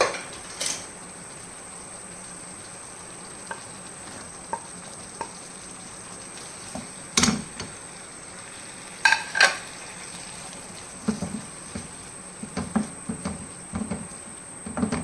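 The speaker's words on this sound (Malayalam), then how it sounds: "തിളക്കാൻ തുടങ്ങി. കണ്ടാ കണ്ടാ ഇനി ചെമ്മീൻ ഇടുക." Prawns frying in boiling oil for a fish pickle give a steady low sizzle with scattered pops and a few louder clinks of a utensil against the pan, close by and without speech.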